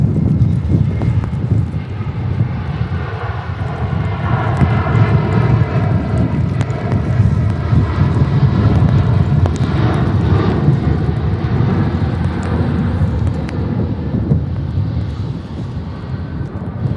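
An airliner departs Manchester Airport for Barcelona in stormy weather, its engines roaring loud and broad over gusting wind noise on the microphone, swelling and holding for the whole stretch before easing slightly at the end.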